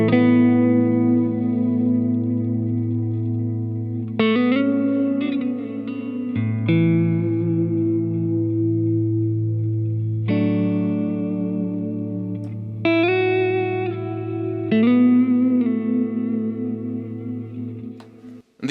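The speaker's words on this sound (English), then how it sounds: "the reverb and delay sounds immense" Electric guitar played through a small Positive Grid Spark Mini amp with lush reverb and delay, sustained chords and notes blooming and ringing on, loud and close with no voices.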